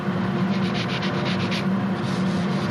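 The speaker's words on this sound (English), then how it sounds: "Any little spots on here that are rough, it doesn't take much sanding" Sandpaper rubs steadily over a wooden part of a model boat, a continuous close, dry scratching hiss with faint rhythmic strokes and no talking.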